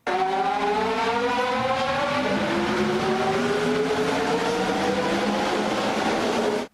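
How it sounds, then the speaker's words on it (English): A steady, loud excerpt from a Vancouver SkyTrain recording carries layered rising motor whine tones that glide upward throughout, with rail rumble underneath and no one speaking. "It's the sound of the SkyTrain in Vancouver."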